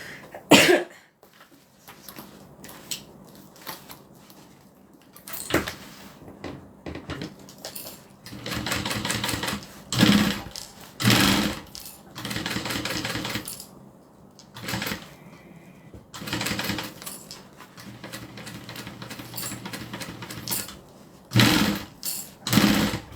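A sewing machine stitches around a fabric binding in bursts of rapid mechanical whirring and needle clatter, separated by pauses and a few handling sounds and coughs.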